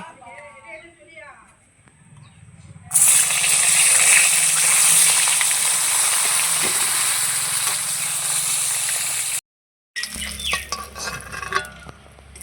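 Pieces of pointed gourd (potol) fry in hot oil with a loud, steady sizzle that starts abruptly and runs for several seconds, then a brief silence before quieter stirring and pan clatter.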